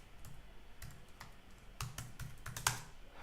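Quiet, close typing on a computer keyboard while a simple Node.js program is written, with irregular clusters of keystrokes and one sharper click near the end.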